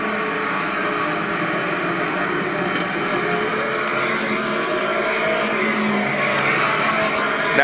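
Pro stock race cars at Lee USA Speedway roar steadily into turn two, a dense continuous engine drone at close range with a faint tire scrub, no talk over it.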